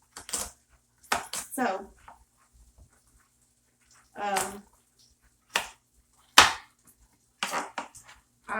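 Knife chopping food on a board while preparing a frittata from leftover fridge ingredients, a few sharp, scattered cuts spaced between bursts of nearby talk.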